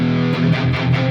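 Heavily distorted electric guitar notes with the gain turned all the way up ring out briefly, thick and saturated, with a few picked notes blending together.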